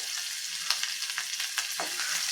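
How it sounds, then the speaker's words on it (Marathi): Two or three chopped green chillies hit crackling cumin seeds in hot oil for a fasting-style grated sweet potato dish, a bright close sizzle punctuated by quick spatula taps. "जिरे फुलायला सुरुवात झाली की त्यामध्ये दोन ते तीन चिरलेल्या हिरव्या मिरच्या घालून घेऊयात"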